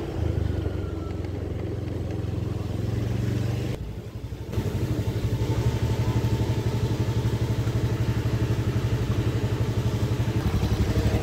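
A warmed-up motorcycle engine idles loud and near during a heat test, a steady throbbing rumble that briefly drops out then resumes evenly, with no talk.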